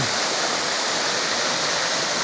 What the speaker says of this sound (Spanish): Aquí podemos otra toma de la cascada